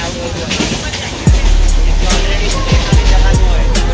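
Loud rumbling rail noise fills a moving, crowded Mumbai commuter train carriage, with wheels clattering over joints and a constant hum and rattle.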